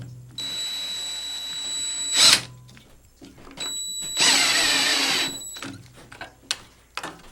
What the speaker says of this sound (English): this oak is just too hard to put these screws in without drilling a pilot hole